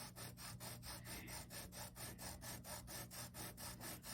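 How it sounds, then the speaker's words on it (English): Sanding a small polymer clay ring box with its lid on, a steady rhythmic scratchy rubbing of quick strokes repeating about four times a second, close and continuous without talk. "I sand it with the lid on the box. So I'm holding it and I'm sanding"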